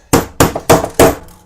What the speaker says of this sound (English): So a little bit of hammering, I'll get this one